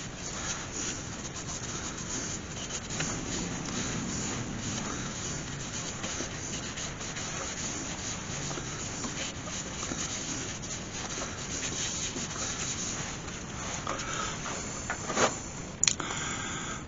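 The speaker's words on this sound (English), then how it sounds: "I'll just sand that down and then apply some sand and cedar and some wax" Steady close rubbing of sandpaper against a red cedar goblet spinning on a lathe, a continuous even scratchy hiss with slight rhythmic swells and a brief knock near the end, no voices.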